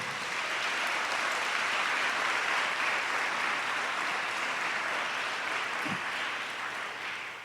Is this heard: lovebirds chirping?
no